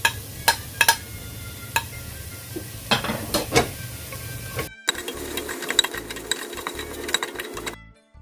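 Crushed chilli and curry leaves fry in hot oil in a pan for chicken biriyani. A steady sizzle runs under sharp clinks of a spoon stirring against the pan; the sound breaks off briefly, then returns.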